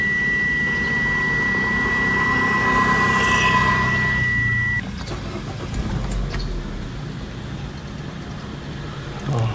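A 2022 Mitsubishi Xpander Sport CVT being started, a steady electronic tone from the car fading out before the engine settles into a low, smooth idle, with no talk over it.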